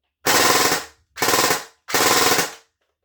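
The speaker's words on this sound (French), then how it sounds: "Ça tire bien, ça tape bien, mais ça fait un peu de bruit quand même." Specna Arms AK-74MN airsoft replica firing full auto in three loud, close bursts of rapid mechanical shots, each lasting about half a second with short pauses between.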